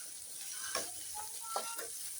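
Sliced onions and green chillies sauté in a pan, making a soft, faint sizzle with occasional light clicks of stirring.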